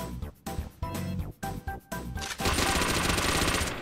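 A rapid-fire attack in Anime Battle Arena rattles off in dense bursts of sharp, gunfire-like hits separated by brief gaps, then swells into a loud continuous barrage.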